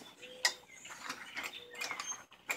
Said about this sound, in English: I just gotta take the clamp off.